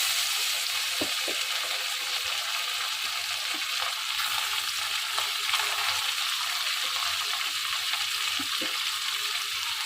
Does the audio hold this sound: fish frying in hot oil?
yes